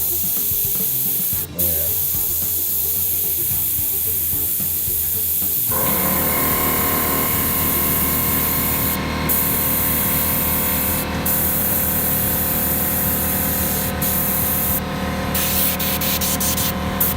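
Airbrush hissing steadily as it sprays paint onto a 1978 Chevy van, a continuous close airy spray that starts strongly after a brief quieter start and runs unbroken, with small pauses and bursts near the end.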